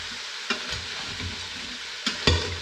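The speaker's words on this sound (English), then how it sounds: "next thing I'm going to do is dump in all of these vegetables" Vegetables tumble into a hot Instant Pot on sauté and get stirred, two sharp thumps of the dump over a soft frying hiss, with scraping stirs between; no talking.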